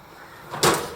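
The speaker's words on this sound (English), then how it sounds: "Shut the door." An oven door swings shut after ramekins of creme brulee go in, giving one soft, muffled thud with a brief rush of noise at close range.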